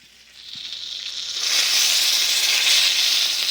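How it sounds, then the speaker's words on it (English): Top cap sirloin steaks searing in a cast iron pan, a steady broad sizzle that swells within the first second or two and then holds loud and even, with no talking. "I'm going to try to get them seared on the sides"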